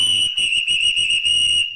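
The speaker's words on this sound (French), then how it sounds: "c'est un... Gros sifflet." A loud, shrill whistle blows in a sustained high tone, pulsing slightly as breath varies, close and alone.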